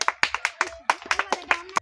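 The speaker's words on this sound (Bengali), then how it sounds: "সকলে জোরে হাততালি" Audience hands clap for a contestant at a balloon-popping dart prize game, a run of sharp separate claps in an uneven rhythm, fairly close, with speech underneath.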